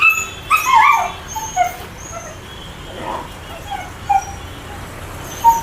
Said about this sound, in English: the poor puppy is crying a lot.